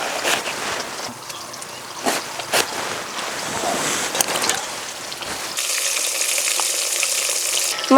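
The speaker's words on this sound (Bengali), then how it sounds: "মাছ ভাজা হতে হতে বেগুন কেটে নেব।" Pieces of snakehead fish fry in hot oil in a pan: a steady crackling sizzle with scattered pops that brightens into a denser, louder hiss toward the end.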